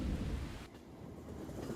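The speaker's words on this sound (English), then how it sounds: "It's raining really hard." Heavy rain with rumbling thunder in the video game Persona 5 Royal, a steady dense hiss of rainfall with low rolling rumble, moderately quiet and uninterrupted by speech.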